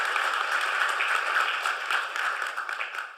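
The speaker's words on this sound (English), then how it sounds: "please join me in applauding and thanking Barbara Boxer for her enormous service to the country" Audience in a hall applauding, a dense, even burst of many hands clapping that holds steady for a few seconds before tapering slightly.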